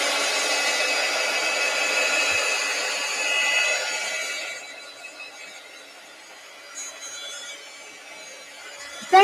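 A hair dryer blows steadily over an art journaling page for about four seconds, a loud broadband whoosh, then cuts off, leaving quieter room sound with small handling noises and a sharp knock at the end.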